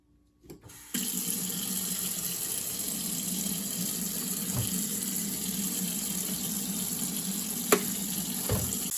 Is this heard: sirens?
no